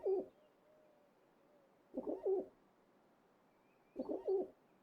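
A pigeon in the video game Trails into Reverie coos three times at even intervals, each a short soft burbling double coo, with quiet gaps between.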